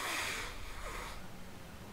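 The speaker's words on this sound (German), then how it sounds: "Ich muss mal kurz meine Nase putzen" A single loud, breathy nasal blast that fades into softer snuffling over a couple of seconds, heard up close.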